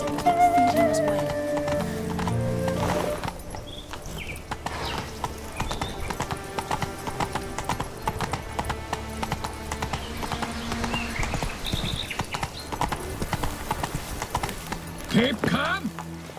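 Geralt's horse Roach galloping in The Witcher 3: Blood and Wine, a fast steady clip-clop of hooves running throughout alongside game music, with voices talking over it.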